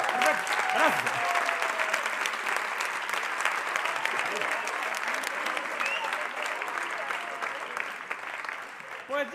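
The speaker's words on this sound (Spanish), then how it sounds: "¡Ay, un aplauso extra de maravilla!" Sustained, lively audience applause at a televised New Year's Eve 2014 gala in Navarra, continuous for several seconds, with a voice briefly heard over it at the start.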